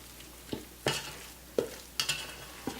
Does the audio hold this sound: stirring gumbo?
yes